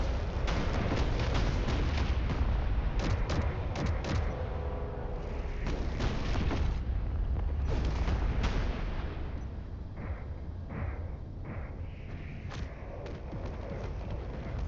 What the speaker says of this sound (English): that transport ship is nailing me pretty good